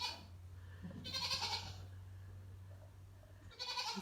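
Sheep bleating on a farm, two loud calls, one near the start and one at the end, over a steady low hum and background noise, with no voices.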